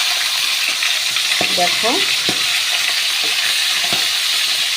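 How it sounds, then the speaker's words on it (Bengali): Four fish heads frying in oil in a pan, a loud steady sizzle and hiss throughout, with a single short spoken word and a few faint clicks over it. "মাথাগুলো ভাজা হবে।"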